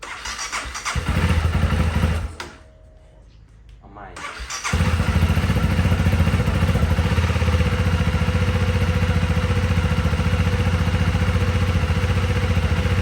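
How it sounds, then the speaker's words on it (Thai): A 2019 Honda CB300R motorcycle idles with a steady mid-pitched engine note up close. The engine cuts out and goes briefly quiet, then restarts and settles into a steady warm-up idle, with someone talking over it. "เดี๋ยวเราสตาร์ทวอร์มเครื่องสักครู่นะ ไม่ได้สตาร์ทหลายวันเลย"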